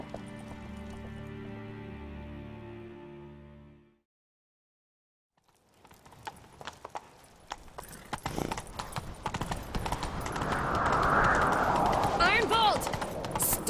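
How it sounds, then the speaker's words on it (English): A horse gallops in the Witcher 3 video game, hooves clip-clopping in a fast, steady rhythm that builds louder and nearer after a short musical passage and a brief silence. "Grab a horse, we'll chase him down."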